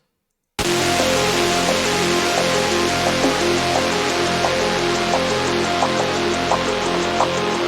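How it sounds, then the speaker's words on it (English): A liquid drum and bass pre-drop build-up produced in FL Studio: a dense, steady wash of noise-like texture with short melodic blips repeating over a sustained bed, loud and continuous with no voice. "Then all together the pre-drop sounds like this."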